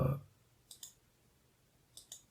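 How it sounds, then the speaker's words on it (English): Two pairs of crisp, close mouse clicks, each a quick double click, on a Raspberry Pi 400 running Amiberry, set apart by near silence. "especially if I click here"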